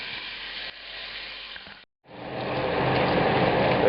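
Beef on the bone, about 600 grams a piece, sizzles as it browns in a pan, a steady hiss that drops out briefly and then returns louder and fuller, close up with no talking.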